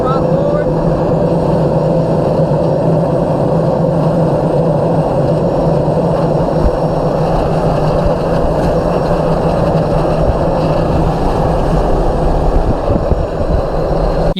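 A turbine-driven aircraft propeller turns at idle thrust after a rich engine start. It makes a steady, loud droning roar with rushing wind noise, while someone talks over it.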